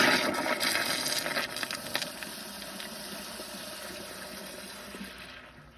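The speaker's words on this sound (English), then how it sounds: "let me do a close-up flush on a low bowl line" A 2004 American Standard Cadet pressure-assist toilet flushes close up with a low water level in the bowl, giving a loud rushing gush of water that steadily fades as the bowl refills over several seconds.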